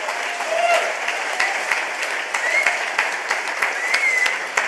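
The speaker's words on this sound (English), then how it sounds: "Can we give Ken a huge round of applause?" Conference keynote crowd gives a sustained round of applause, a thick, even wash of clapping throughout with a few faint whistle-like tones riding on top.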